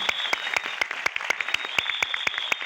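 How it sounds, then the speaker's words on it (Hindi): Sharp, regular claps ring out at a sales meeting, about five per second in a steady rhythm, close and crisp over a faint constant high hum. "ये गेनोजी टूथपेस्ट एक बार जोरदार तालियां पेस्ट के लिए बजाइए।"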